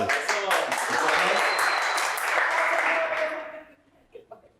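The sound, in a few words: applause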